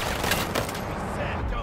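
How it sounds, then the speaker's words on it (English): Rapid gunfire from Hangman's henchmen in the VR game Batman: Arkham VR, a dense continuous burst of shots filling the whole moment, loud and close with no pause between cracks. "Hangman's men will fire."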